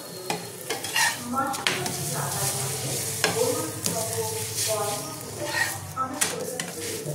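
A chicken roll wrap brushed with oil fries in a pan, giving a steady close sizzle with occasional utensil clinks, while someone talks over it.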